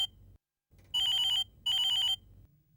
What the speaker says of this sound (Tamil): ஃபோன் அடிக்குது, யாருன்னு பாரு